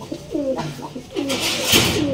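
A male Giribaz dobaj pigeon coos at a pigeon farm, a few soft, low, rolling coos close by, mixed with brief rustling and a short burst of noise.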